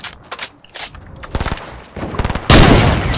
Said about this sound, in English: I just got sniped from behind.